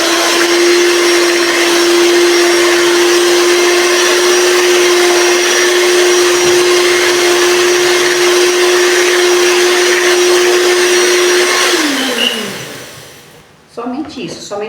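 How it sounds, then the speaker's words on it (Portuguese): An electric hand mixer whirs at a steady, loud, constant pitch beating cake batter with sugar for donut dough, then winds down and stops near the end, followed by a brief clatter. "minha batedeira de mão que é mais prática"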